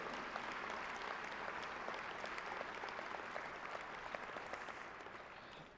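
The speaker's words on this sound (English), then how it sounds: "If you can please join me in giving them a big round of applause for all the work they do to get you here." An audience applauds at a university fall commencement ceremony, a steady wash of clapping from a large crowd that holds for several seconds and then starts to fade.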